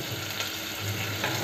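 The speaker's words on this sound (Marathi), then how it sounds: "आता मी कढीपत्ता घालते." Curry leaves hit a hot pan of frying onions and sizzle, a loud, close, steady hiss and crackle throughout with no speech.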